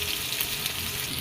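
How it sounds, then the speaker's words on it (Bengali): Sliced onion fries in hot oil in a pan after fish, giving a steady, dense sizzling hiss, close and even, with no talking. "তেলে দিয়ে দিলাম পেঁয়াজ।"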